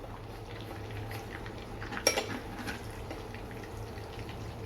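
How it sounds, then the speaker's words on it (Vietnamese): Fried prawns are lifted from a pan onto a plate, giving one sharp clink of utensil against dish midway over a steady background of sizzling oil. "mình sẽ gấp nó ra đĩa"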